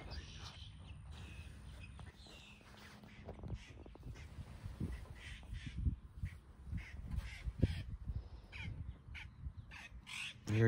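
Crows caw repeatedly near a river ranch, rough calls in a string of bursts over steady outdoor background noise and low rumble.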